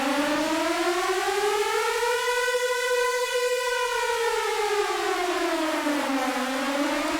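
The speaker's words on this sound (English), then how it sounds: "where you want this Air Raid Siren to take place" An air raid siren synthesized in the Vital synth holds one loud, steady wailing tone that rises slowly, sustains, dips and starts climbing again, with no other sound around it.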